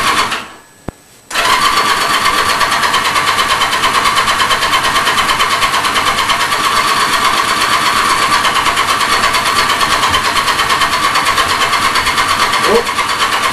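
An engine runs steadily at a loud, even idle after a workshop choke is switched off. A short quiet gap comes first, then a continuous close drone.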